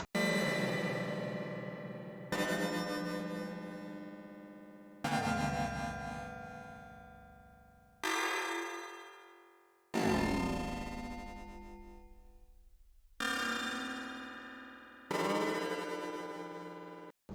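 Seven sustained synthetic chords from five band-limited oscillators in a Pure Data patch, each striking sharply and then fading, with bright buzzy harmonics and short silences between them, played alone.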